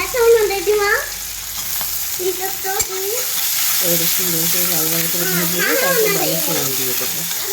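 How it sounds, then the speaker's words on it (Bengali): Garlic and panch phoron fry in a pan for tempering dal, giving a steady close sizzle and hiss throughout while someone talks over it. "তারপরে এর মধ্যে দিয়ে দেবো রসুন কুচি"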